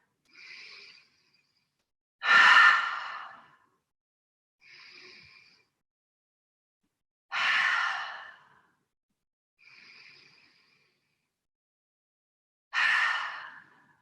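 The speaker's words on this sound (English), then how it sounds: "we'll finish with 3 breaths in through the nose and out through the mouth" Three slow yoga breaths at the end of a practice: each begins with a soft nasal inhale, then a louder, longer whooshing exhale through the mouth, evenly spaced and close, with silence between.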